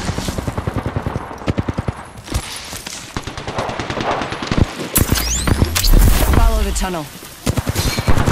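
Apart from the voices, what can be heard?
gunfire in a shooter video game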